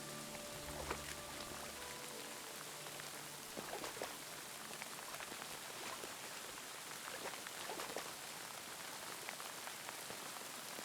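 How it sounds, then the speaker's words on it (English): Steady rain falls in the medieval video game Kingdom Come Deliverance 2, an even, fairly quiet hiss of drops with a few soft tonal notes near the start and no talking. "The thing is, the sound of the rain"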